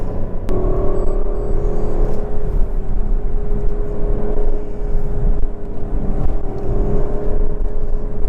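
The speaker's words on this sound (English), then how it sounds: "that V8 is intoxicating" A Lexus LC500 V8 engine roars steadily at high revs with a constant deep rumble and whine, heard from inside the moving car, loud and sustained.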